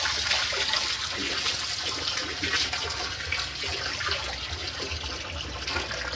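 Water pours steadily into an emptied tank being refilled, a continuous close, even rushing and gurgling flow with no pauses and no one talking.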